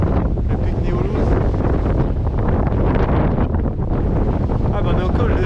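Strong gusting wind on a mountain pass in the Pyrénées-Orientales, a loud, continuous rushing buffet against the microphone that drowns out other detail.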